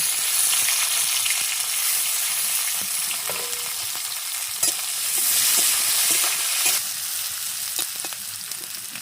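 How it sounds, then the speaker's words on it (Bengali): Steady sizzling of garlic, onion and chili frying in a pan, with occasional stirring scrapes and clicks, close and continuous without any talking. "রসুন পেঁয়াজ লঙ্কা ভালো করে ভাজা হয়ে গেছে"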